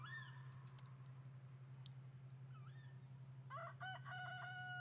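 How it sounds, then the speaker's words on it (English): A rooster in the video game Trash Goblin crows clearly, with short chirps and clucks, over a steady low hum. The crows are faint and thin. "cock-a-doodle-doo."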